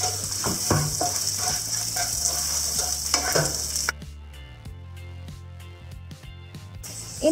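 Crushed ginger, garlic and slit green chillies fry on a low flame in a pan, giving a steady close sizzle with stirring scrapes and clicks, then quieter sizzling with scattered taps.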